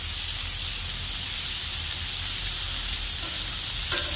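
Butter sizzling on a hot grill while making onion smash burgers, a steady loud hiss and crackle throughout with no speech.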